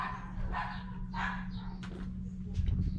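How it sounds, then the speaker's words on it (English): Dogs bark in a street fight, among them a little poodle, with a few short yappy barks ringing out at a moderate distance over a steady low hum. "Got a dog fight happening in the street."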